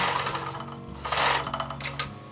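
A sewing machine back stitching through bulky fabric while making a cosmetic bag, with a steady, close mechanical whir and chatter that briefly surges louder, heard alone.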